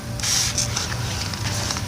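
Garden sprayer misting water over Brussels sprouts plants, a steady close hiss with short louder spurts.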